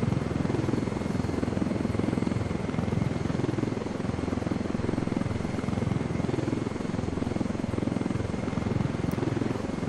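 A helicopter in the video game Ghost Recon Wildlands flies steadily overhead, with a loud, continuous rotor and engine drone that fills the whole stretch at an even level.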